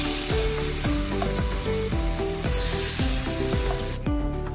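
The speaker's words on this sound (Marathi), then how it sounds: "आता हे तव्याला तेल लावून घेतलेलं मी, त्यात आता आप्पे घातले" A steady, close sizzle of fasting appe frying in an oiled appe pan continues throughout, under rhythmic background music with repeating plucked notes.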